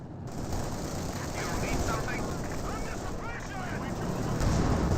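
Sustained MG42 machine-gun fire in Company of Heroes 2, a loud, dense battlefield rattle with overlapping bursts and explosions that runs continuously and swells slightly toward the end.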